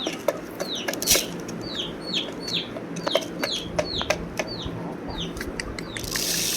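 Backyard chickens clucking repeatedly at close range, with brief bursts of wing flapping and scratchy rustling between the calls.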